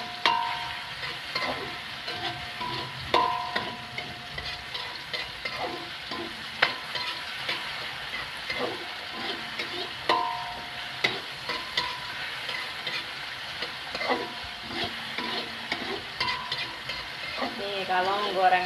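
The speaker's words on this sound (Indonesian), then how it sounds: "Kalau menggoreng kayak gini jangan sampai gosong ya, ini diaduk terus nanti biar rasanya itu enak." Cassava leaves with tomato frying in a pan give a soft, continuous sizzle, broken by repeated scraping and clinking as the mix is stirred again and again; a voice talks quietly over it.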